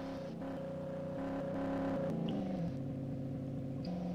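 A car engine in the virtual world Second Life hums and shifts pitch with a steady drone, moderately loud and continuous, with no one talking.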